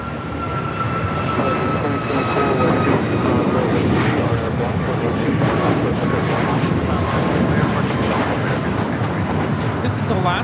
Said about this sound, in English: This is Alaska Airlines 1353 taking off to Guatemala City on the MAX 8.